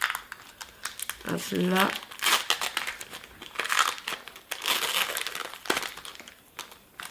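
Plastic wrapper of a Lorcana Chapter 2 booster pack being torn open and crinkled up close, bursts of crackling and rustling spread through the clip, with someone speaking briefly over it.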